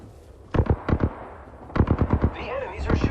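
Bursts of automatic gunfire from the video game Apex Legends, two rapid volleys of close, loud shots separated by a brief pause, with faint game sounds between.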